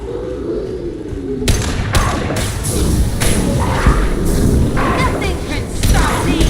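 Biotic explosion in the video game Mass Effect 2, heard as a string of heavy thuds, whooshes and crashing bursts that fill the whole stretch after a quieter start, layered with other loud combat effects.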